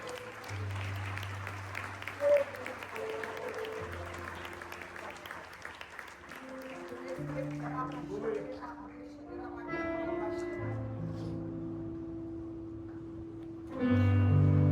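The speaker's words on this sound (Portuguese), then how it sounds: "Aplaude e exalta o nome dele." A church congregation claps at a worship service, the clapping running under sustained keyboard chords, thinning midway as the music carries on, then a brief louder swell near the end.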